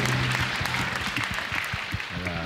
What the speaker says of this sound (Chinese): 掌声我们欢迎他，好吧，表示欢迎